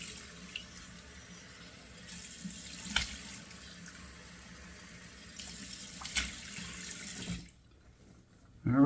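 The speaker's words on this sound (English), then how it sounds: "close the pores with 2 splashes of cold water, which I'm going to do right now" Cold tap water runs steadily into a sink in a barbershop with a few splashes from hands scooping it onto a face, then the flow cuts off abruptly near the end.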